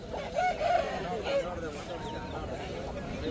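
An Aseel rooster crows once at a busy weekly chicken market in Hindiganala H Cross, a loud drawn-out call rising over clucking fowl and background voices.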